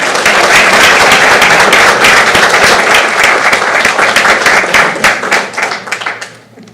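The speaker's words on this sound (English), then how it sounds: "Let's give these scholars one more round of applause." Audience applause at a school board meeting honoring scholars: a roomful of steady, dense clapping, loud and sustained, tapering off into scattered claps at the end.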